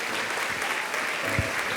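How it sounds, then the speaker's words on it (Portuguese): A church youth-service congregation claps in steady, dense applause throughout, a continuous wash of hand claps at moderate distance with a faint voice or thump near the end. "Uma salva de palmas ao nosso Pai."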